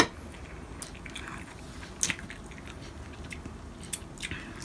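Crispy fried galunggong fish being bitten and chewed up close, with a few soft crunches and wet chewing sounds against a quiet background.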